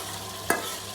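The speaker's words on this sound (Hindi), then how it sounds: "अब इसी ऑयल में मैं कीमा डाल दूँगी" Beef keema dropped into hot oil left from frying onions and bhindi gives a single short sizzling burst, close and clear, that fades quickly into a low steady hiss.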